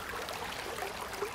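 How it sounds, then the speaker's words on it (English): Creek water running down through trees in Grange State Forest, New South Wales, about ten metres off: a steady, soft broadband rush with faint ripple, continuous and even for the short stretch, with no voices. "You can hear the water running down through the trees there"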